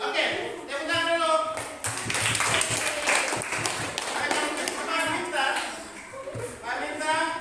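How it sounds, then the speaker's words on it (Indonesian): A classroom group claps hands together, a dense mixed burst of claps and taps running throughout, with voices talking and calling out over the clapping. "Oke, tepuk tangan dulu."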